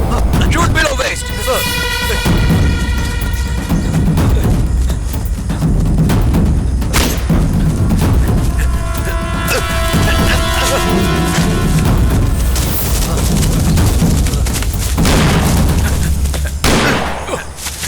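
Gunfire aimed at a target's legs in a dubbed Tamil action film, loud bursts and booming shots repeating through the scene over a dense score of sirens and effects, with voices talking throughout.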